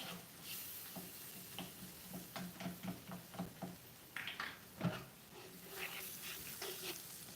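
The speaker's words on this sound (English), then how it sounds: "Just gonna sizzle it up." Onions sizzle and crackle in a hot pan, with irregular pops and stirring scrapes standing out over the steady hiss.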